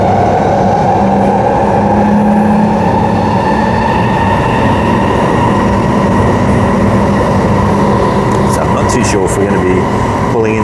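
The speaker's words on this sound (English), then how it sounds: "next station is High Wycombe where this service terminates" A passenger train runs toward High Wycombe station with a loud, steady rumble and hum that continues throughout. A few clicks sound near the end and a voice speaks over the noise.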